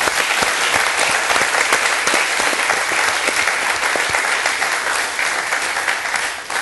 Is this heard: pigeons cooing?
no